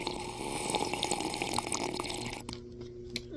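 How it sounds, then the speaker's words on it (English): Water sloshes and trickles steadily as someone takes a drink during a break, with the liquid sound fairly close, then dropping away to near quiet with a few small drips at the end. "Drink break. You gotta take your drink."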